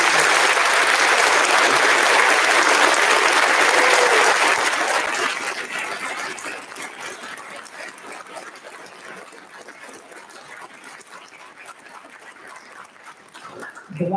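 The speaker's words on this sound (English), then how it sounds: "Can we give them another round of applause?" A concert audience applauds an orchestra and symphonic band: loud, sustained clapping from a full hall that fades over several seconds to scattered claps and light room noise.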